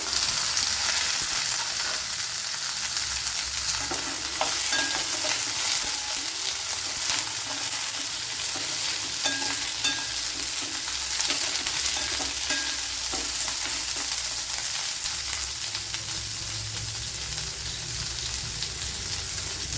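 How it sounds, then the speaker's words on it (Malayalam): Shallots are added to reddened garlic frying in a pan for a Bengali-style brinjal and curd curry. The oil gives a steady, close sizzle throughout with faint stirring and no talk. "ഇവിടെ വെളുത്തുള്ളിയൊക്കെ ചുവന്ന് വന്നിട്ടുണ്ട് അതിലേക്ക് ഒരു പത്ത് കൊച്ചുള്ളി ഇട്ട് കൊടുക്കാം"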